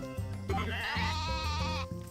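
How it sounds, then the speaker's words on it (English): A sheep in the video game Story of Seasons: A Wonderful Life lets out one long, wavering bleat, loud and close, over a faint background hum. "The sheep are loud as always."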